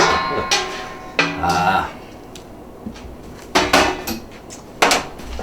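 Cooked beef and its fluid are tipped into a bowl, heard as several separate clanks and clatters of utensils against dishware with a wet slosh in between, over quiet kitchen background.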